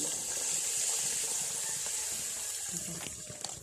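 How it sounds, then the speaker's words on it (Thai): Water for coconut-milk mixture runs steadily, a liter poured in a continuous close gush like a tap filling a container, with no talking over it. "น้ำเปล่าหนึ่งลิตรนะคะ"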